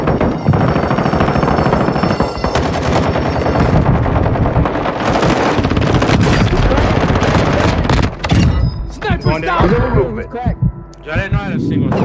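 Video game gunfire rattles in rapid, loud automatic bursts through most of the clip, with heavy booming impacts layered in, then breaks into scattered shots near the end while a person talks over the action.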